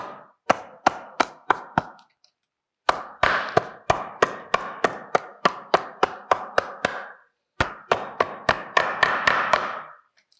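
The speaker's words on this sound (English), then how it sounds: "then you start closing, hammering it" Hammering a Steenbeek brace closed over a small piece of timber: a rapid series of sharp, close metal-on-wood blows in three runs of many strikes each, with brief pauses between runs.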